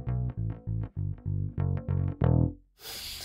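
Bass guitar with flatwound strings played direct through an audio interface into Logic, a series of round, punchy plucked notes in steady rhythm, clean and unaccompanied, with a brief noisy burst at the end.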